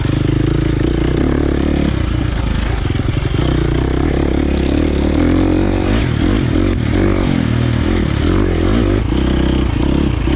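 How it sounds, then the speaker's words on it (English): A KTM 350 XC-F dirt bike with a Vortex ECU roars loudly and continuously while being ridden, the engine note rising and falling with throttle and engine braking, plus clattering from the bike and terrain. "The engine braking is definitely much more pronounced on this map than #1."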